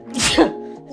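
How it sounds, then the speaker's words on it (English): One person sneezes, a single loud close burst with a short voiced gasp at its end, then brief quiet. "Oh, I gotta sneeze, bro."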